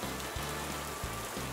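Steady rain pours and patters on surfaces in a garden, a dense continuous hiss with a low repeating hum beneath it and no voices.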